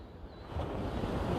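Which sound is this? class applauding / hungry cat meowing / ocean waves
ocean waves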